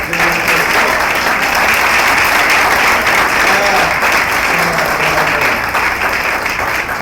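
A large audience applauds at a rally or public gathering, loud, sustained clapping from many hands with crowd murmur and cheering mixed in, filling the space evenly throughout.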